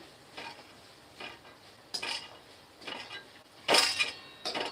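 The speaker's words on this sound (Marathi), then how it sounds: "हे तेलात मस्त भाजून घ्यायचे बघा मीठ टाकल्यामुळं ते मीठ पण भाजता भाजता छान त्या सांडग्यांना लागून जाते" Salted sun-dried lentil dumplings (sandge) roast in oil in a pan, heard as quiet frying under intermittent scrapes and clinks of a spoon stirring, several short bursts spaced a second or so apart.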